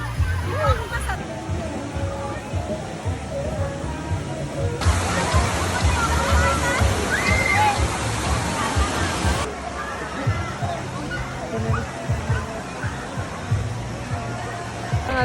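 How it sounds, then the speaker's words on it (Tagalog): River water flowing and splashing steadily on a nature trip, with a louder rushing stretch in the middle, under the babble of several people talking nearby. "Dito po kami ngayon sa ilog."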